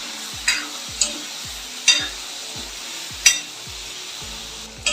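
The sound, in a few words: brinjal sautéing and stirred in pan for spicy curry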